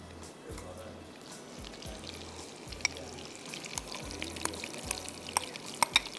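Onions dropped into hot oil and butter in a pan hiss and crackle as they fry for a masala chicken dish, with steady sizzling throughout and sharper pops building toward the end, while someone talks over it.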